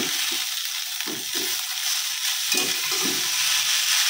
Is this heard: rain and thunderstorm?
no